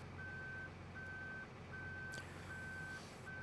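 A farm vehicle backing up in Farming Simulator 2013 gives four evenly spaced electronic reversing beeps over a low, constant engine drone, with a faint clunk partway through.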